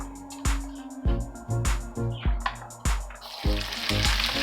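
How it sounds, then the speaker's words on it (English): Onion and garlic sauteing in a pan: a continuous sizzle under repeated knocks and scrapes of a utensil stirring, close and moderately loud. "Now we're starting to saute our onion and garlic together."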